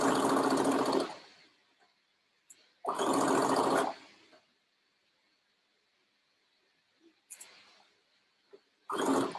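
Sewing machine stitching a welt pocket on pants, running in three loud bursts of about a second each, separated by near silence with faint handling sounds.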